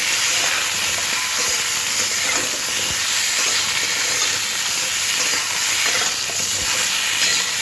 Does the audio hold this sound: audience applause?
no